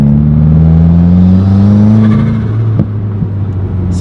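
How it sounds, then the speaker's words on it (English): A turbocharged Subaru WRX engine drones loudly with a steady low whine that drops off near the end, followed by a few sharp fluttering turbo puffs and clicks. "the turbo flutter is 3 times louder now"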